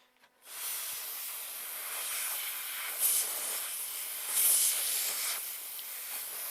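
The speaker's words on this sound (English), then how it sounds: "Little releasing the cap on the air handler. You just heard the air spray out." Compressed nitrogen hisses out as the cap on an apartment air conditioner's air handler is released, a sudden loud spray that holds steady with two stronger surges before trailing on.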